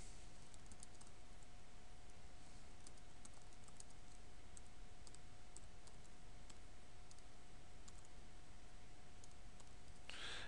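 Typing on a computer keyboard while entering router commands in a networking lab, light quick keystrokes in a steady patter, close but quiet over a faint electrical hum, with a louder clatter of keys at the end.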